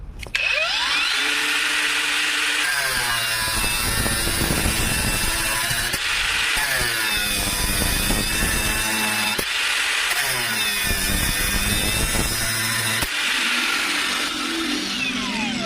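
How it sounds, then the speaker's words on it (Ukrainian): An Einhell TP-AG 18/125 CE Q Li cordless angle grinder fitted with a grinding disc whines steadily at full speed, its pitch dipping and recovering several times under load, loud and close with no talk. "Поставив зачисний круг, спробуємо зупинити болгарку."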